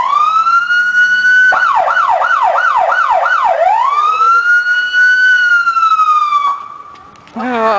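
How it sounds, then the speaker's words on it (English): A police car siren sounds up close at a family story time event, loud rising and falling wails breaking into rapid yelping sweeps before settling into a steady tone, ending with a short low rumble. "You guys want to hear the siren again?"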